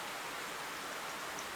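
Rain in the video game Stormworks: Build and Rescue, a faint, even hiss of splashing drops that holds steady throughout with no voices.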